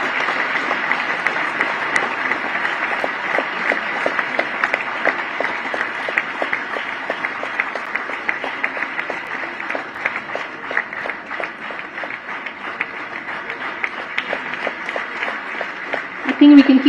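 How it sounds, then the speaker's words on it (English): Audience applause at an organisation's tenth anniversary celebration, continuous clapping from a large hall crowd carrying on at steady volume for a long stretch, picked up through a somewhat muffled, distant-sounding mix. "I think we can keep the applause going."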